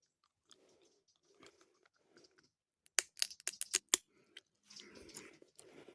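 Fresh foraged hazelnuts are bitten and chewed outdoors on a country walk, a quick burst of close, crisp shell crunches followed by softer chewing, with faint background noise around them.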